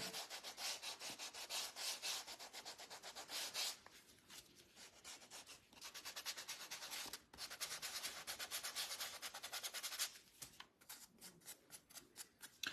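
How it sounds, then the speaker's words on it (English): Hand sanding over dry paint on a wooden flag-and-flowers basket hanger craft, a steady close scratchy rasping in quick repeated back-and-forth strokes with a few brief pauses, no talking. "now that it's dry, I'm gonna sand over this just a little bit"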